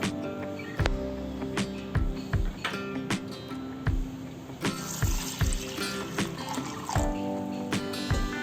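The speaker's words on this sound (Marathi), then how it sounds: "ते आपण 1-2-3 वेळेस पाण्याने स्वच्छ धुवून घेऊ." Quarter cup of rice for kheer is rinsed in water in a kitchen, with close splashing, trickling and swirling water broken by repeated light clinks and knocks of grains and vessel.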